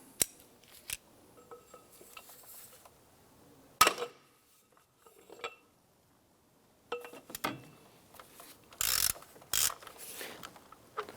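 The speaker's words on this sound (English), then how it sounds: "So we're going to use our socket and ratchet. We're going to loosen or remove that unit there." A socket and ratchet loosen the transmission fill plug on a 2005-2007 Ford Five Hundred, with intermittent clicking, scraping and metallic clinks in short bursts separated by quiet gaps, close and moderately loud.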